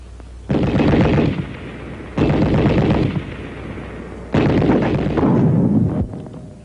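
A WWII anti-tank rifle grenade blasts a sandbagged machine-gun nest three times, each loud, booming explosion followed by a rumbling decay, with pauses of roughly two seconds between blasts.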